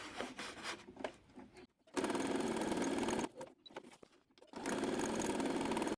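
A sewing machine fitted with a size 100 needle perforates paper for handmade stamps, running in close mechanical bursts of rapid stitching with short pauses between runs.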